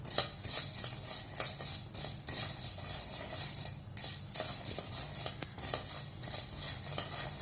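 Black peppercorns rattle and scrape around a pan as they are dry-roasted for rasam powder, a continuous close-up stirring clatter with rhythmic pulses and no voices.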